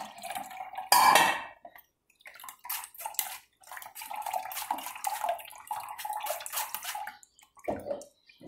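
Dishes are washed at a kitchen sink, with running water splashing in bursts, dishes and utensils clattering close by, and a brief pause in the flow before more rinsing.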